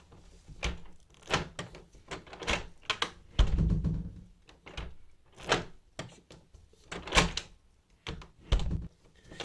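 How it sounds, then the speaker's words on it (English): A uPVC double-glazed door being locked and adjusted gives a series of close thunks, clicks and creaks as it pulls against the frame and the gasket compresses, in irregular bursts with quiet gaps. "You can actually hear it pulling against the frame and the gasket moving and compressing."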